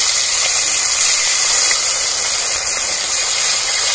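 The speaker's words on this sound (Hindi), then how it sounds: "सरसों तेल गर्म हो गया है, तो चलिए रेवा मछली फ्राई के लिए हम डाल देते हैं।" Rewa fish sizzle in hot mustard oil in a wok, a loud, steady, close frying hiss filling the whole stretch with no breaks and no talk.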